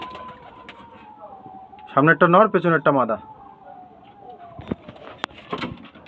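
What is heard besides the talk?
pigeons cooing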